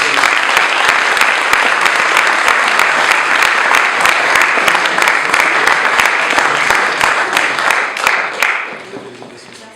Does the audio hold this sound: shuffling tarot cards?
no